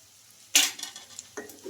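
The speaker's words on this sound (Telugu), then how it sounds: "ఈ కొత్తిమీర కూడా వేసేసుకొని ఒకసారి ఇలా బాగా కలిపేసుకొని" Potato fry being stirred in a pan after fresh coriander is added, a clear scrape and sizzle burst near the start followed by a softer second stir, with no talking.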